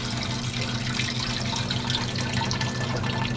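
Water pours steadily into a pot for a beer mash, a loud, close, continuous splashing stream that holds at an even level throughout.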